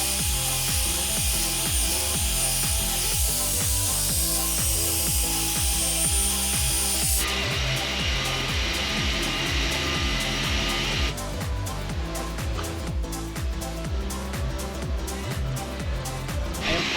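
A power polisher works a car headlight on a high-mileage Tahoe, a continuous loud motor whir that shifts pitch as the pad presses and lifts, running steadily for the whole stretch.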